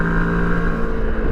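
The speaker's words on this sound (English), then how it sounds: "The engine likes to rev." A Moto Morini X-Cape motorcycle engine runs at steady high revs, a loud close droning tone with a constant pitch throughout the short stretch.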